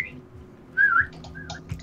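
A short whistle sound effect in a first-person shooter game sounds once as a clear rising-then-falling tone, followed by a few fainter chirpy blips over a low background hum.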